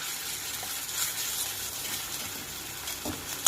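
Ginger garlic paste fries in oil with curry leaves, a constant soft hiss and sizzle that stays level throughout, with a faint stirring knock near the end and no speech.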